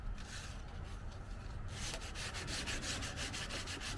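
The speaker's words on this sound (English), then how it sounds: "So I want to sand all that real good." Steady back-and-forth sanding on a car body being prepped for paint, a continuous rhythmic scrubbing that turns into faster, evenly pulsed strokes partway through, close and alone.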